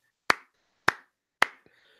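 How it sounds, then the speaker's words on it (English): Three slow, evenly spaced hand claps ring out close and sharp with nothing else around them, each clap decaying quickly before the next, followed by a faint small tap. "that's slow clap worthy right there"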